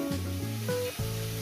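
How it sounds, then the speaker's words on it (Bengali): Potatoes fry in hot oil in a home kitchen, giving a steady, close sizzle with no talking. "আলু এই এখানে ভাজা হচ্ছে"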